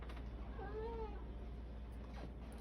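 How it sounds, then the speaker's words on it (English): A cat gives a single short meow, faint and somewhat distant, over a low steady hum. "Sorry, it's my cat."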